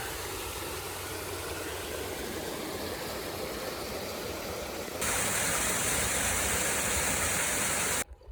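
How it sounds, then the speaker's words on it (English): A cascading mountain stream in the Sierras along the Pacific Crest Trail gives a steady, hissing rush of water, fairly distant at first, then closer and brighter for a few seconds before cutting off abruptly. "another little look at the cascading stream"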